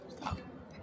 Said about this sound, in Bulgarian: ами 5 макарон ще дъвча 1 час